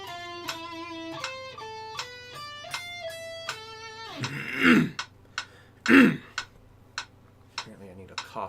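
A man clears his throat and coughs twice, loud and close, breaking into a steady metronome ticking that follows a run of stepped electronic tones.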